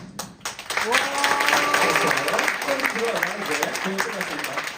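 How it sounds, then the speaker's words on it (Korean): An audience of students at a Korean human-library book concert applauds to welcome a professor, with steady clapping and cheering running under music and a speaking voice at moderate level. "우리 학생 여러분들, 언니 오빠들이 큰 박수로 맞아주실게요"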